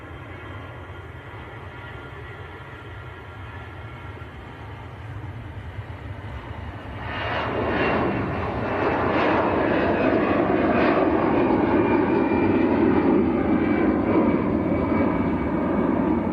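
EasyJet airliner departing Manchester Airport, a moderate background hum that jumps into a loud, sustained engine roar from about seven seconds on, heard without talk.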